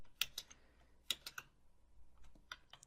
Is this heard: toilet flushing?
no